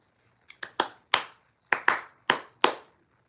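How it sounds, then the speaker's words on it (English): A person claps alone in a quiet room, eight sharp, close claps in loose pairs with short pauses between them, each crisp and dry with no talking over them. "I don't know what I'm clapping for."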